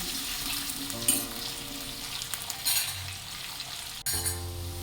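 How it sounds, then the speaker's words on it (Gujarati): Potatoes sautéing in a pan for a Gujarati okra-and-potato curry, a steady close sizzle and hiss with occasional stirring scrapes and a brief clatter near the end. "હવે આપણે 3 થી 4 મિનિટ બટેકાને સાતળીશું."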